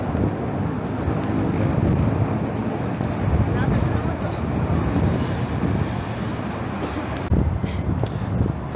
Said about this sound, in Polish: Jakaś masakra ten wiatr